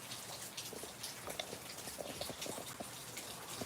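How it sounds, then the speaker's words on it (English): Rain patters onto a patio in steady, dense drops, with scattered sharper splats close by and a faint wash of falling water behind them, no voices. "It's raining out, buddy."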